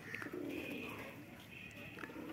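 Hyderabadi pigeons feeding in a loft coo in soft, low, throaty calls that repeat steadily, close by, with faint bird chirps and rustling behind them.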